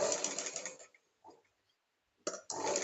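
A sewing machine stitches elastic onto a balloon sleeve, running in two brief bursts separated by a quiet pause, close and fairly loud with no talking.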